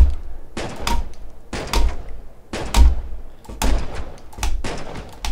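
A semi-automatic demo weapon in the video game Killing Floor 2 fires in a steady rhythm of about six loud, punchy shots, each with a short booming tail.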